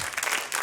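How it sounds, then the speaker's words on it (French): A concert audience claps in a dense burst of applause, loud and continuous, from a live French chanson show. "Applaudissez-le."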